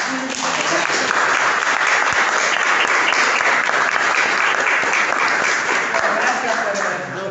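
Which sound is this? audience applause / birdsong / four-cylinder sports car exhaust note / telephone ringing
audience applause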